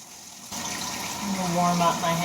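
Ice-cold tap water runs steadily while hair dye is rinsed out, a close, continuous splashing flow that grows slightly louder, with a faint voice underneath.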